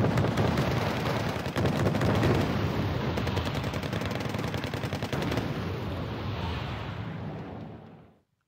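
Dense, continuous barrage of artillery and gunfire in the Wargame real-time strategy game, loud overlapping blasts and rapid shots that fade out at the end.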